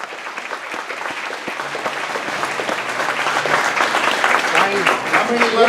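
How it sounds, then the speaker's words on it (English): Audience applause for a guest speaker at a talk, steady clapping from a crowd that swells slightly louder toward the end, with a few voices audible underneath. "Let's hear it for KrisAnne Hall."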